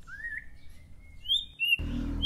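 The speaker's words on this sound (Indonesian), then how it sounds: "biarkan si burung murai batu ini berbunyi dengan semaunya" A white-rumped shama sings clear, sliding whistled notes close by, rising and falling in pitch, ending as a sudden burst of broadband noise cuts in.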